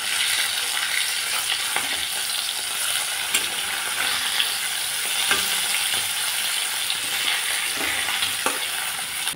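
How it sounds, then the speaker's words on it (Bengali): Pieces of fish fry lightly in hot oil, a constant close crackling sizzle with small intermittent pops and no voices. "এগুলো হালকা করে ভেজে নিলাম।"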